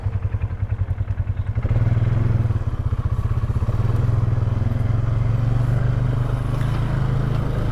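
An off-road vehicle crawls in 4x-low along a washed-out trail, its engine a steady low rumble close by, with clattering thumps over the rough ground and no talk.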